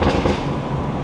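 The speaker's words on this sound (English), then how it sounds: "That's a downshift." A stage 2 BMW B58 engine in a moving car downshifts, giving a loud, dense, rumbling drone with brief pulses over a one-second span, no voices.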